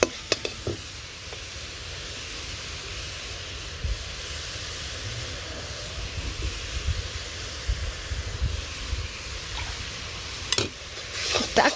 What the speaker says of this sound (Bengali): একটু ভাইজা নই ভালো করে।